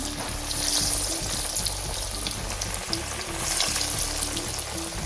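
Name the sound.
homemade chicken nuggets frying in a pan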